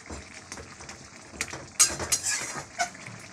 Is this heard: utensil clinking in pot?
yes